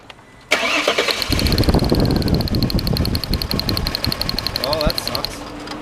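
A 2002 Volkswagen Passat 2.8L with a faulty crank sensor and an intermittent no-start cranks briefly, then catches and settles into a close, steady running idle with a whining fan-like tone, while people talk over it.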